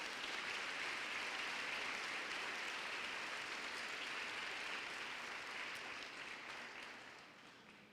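Church congregation applauding Jesus during an evening revival service, a broad sustained roar of clapping that holds steady, then fades away toward the end.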